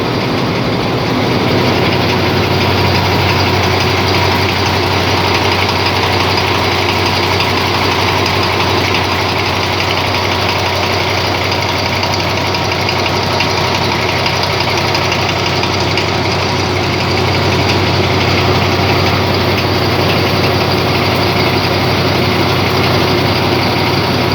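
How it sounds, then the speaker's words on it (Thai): A Hitachi V6 diesel locomotive engine idles steadily and loudly nearby, a continuous low rumble with a droning hum that holds unchanged throughout. "เครื่องยนต์ V6"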